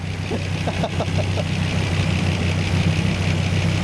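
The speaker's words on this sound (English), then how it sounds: "V10 engine." A Dodge Viper V10 engine idles close by with a heavy, lumpy, vibrating rumble, steady and loud throughout, with a few brief blips near the beginning.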